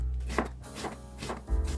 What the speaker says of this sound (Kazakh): Енді бір орташа пиязды екіге бөліп, видеода көрсетілгендей турап аламыз.